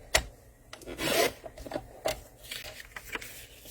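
White cardstock for a Christmas card is trimmed with a few dry, close scraping and rasping strokes, including one longer swipe and several short scratchy passes, with soft taps in between.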